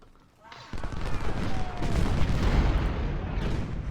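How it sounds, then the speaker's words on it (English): Heavy cannon fire from 24-pounder artillery in a Civil War strategy game, a sudden loud boom at the start followed by a dense, rolling rumble of repeated shots and battlefield noise that continues throughout. "Maybe I can start targeting them with my 24 pounders."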